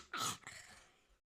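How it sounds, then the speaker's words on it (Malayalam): A single short throaty cough or throat-clear, fairly faint and close, fading into a soft breathy tail in a quiet indoor room. "ചുമ"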